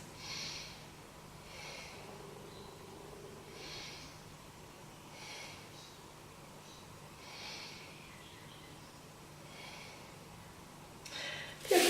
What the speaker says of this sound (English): And let's take 3 breaths.